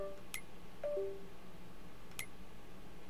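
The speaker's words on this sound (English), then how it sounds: "I don't know what that was beeping. It's on my new laptop." A new laptop gives two short electronic beep patterns, each a quick high chirp, about two seconds apart, faint over a quiet background hum with a soft lower tone between them.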